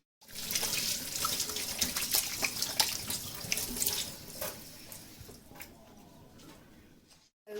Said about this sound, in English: I'm just going to wash my hands and use my hands